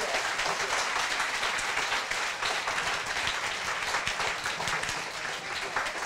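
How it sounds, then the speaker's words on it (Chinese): A lecture audience applauds warmly to thank teacher Wen after a talk on Kunqu opera, with steady, dense clapping sustained from start to finish at a moderate distance. "那我们想热烈掌声再来谢谢温云航温老师"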